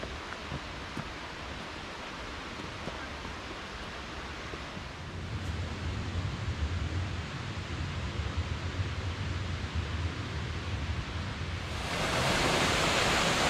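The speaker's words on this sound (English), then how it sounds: "We're spending most of the day walking along beautiful 20-Mile Creek here. Lots of cascades." Twentymile Creek tumbling over cascades in the Great Smoky Mountains, a steady broadband rush of flowing water that grows louder and brighter toward the end, with no voices.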